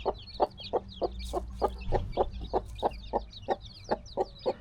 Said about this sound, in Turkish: 14 yavrulu gurkumuz.